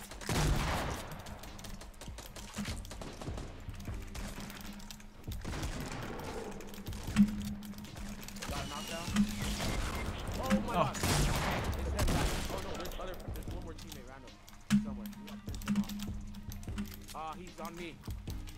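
Gunfire in Fortnite Battle Royale, scattered bursts of shots and sharp impacts mixed with clicking, under frequent excited talking between players.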